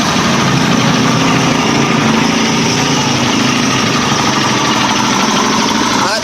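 An RS150 motorcycle engine running noisily, a dense continuous mechanical roar with rattling texture, loud and close, steady throughout with no breaks.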